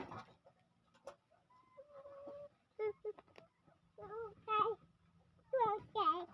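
Chickens on a Thai farm cluck in short, bright bursts that grow louder and more frequent toward the end, with a few scattered knocks and quiet background noise between calls.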